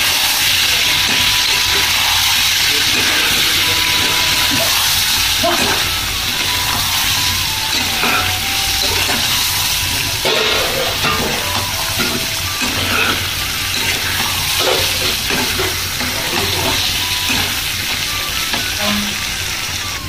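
Spices and turmeric frying in oil for chicken curry give a loud, continuous close-up sizzle and hiss, with scraping from steady stirring throughout and no voices.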